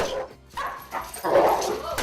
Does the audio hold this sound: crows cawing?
no